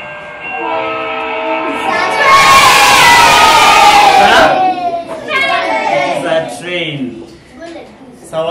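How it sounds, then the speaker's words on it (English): A loud horn blares for a couple of seconds over a rumbling passing train, with children's voices and chatter around it before and after. "Is that a train?"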